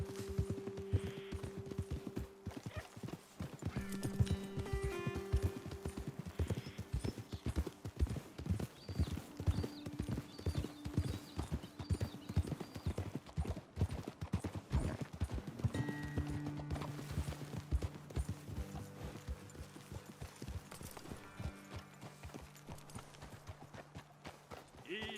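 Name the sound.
horses hooves walking in video game Red Dead Redemption 2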